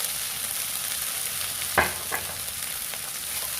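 Beef fried rice frying in sesame oil, a steady close sizzle with a couple of sharp stirring clicks and scrapes of the spatula.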